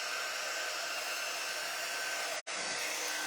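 Steady loud whoosh of air, likely a hair dryer, blowing wet watercolor paint across foil, running close and constant with one brief dropout near the end.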